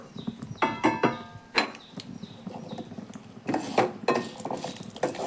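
Lentils, garlic, shallots and spices are stirred and fried in a pan: a metal spoon clinks and scrapes irregularly against the pan over a faint sizzle, up close.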